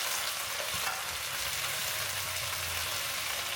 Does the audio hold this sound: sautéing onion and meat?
yes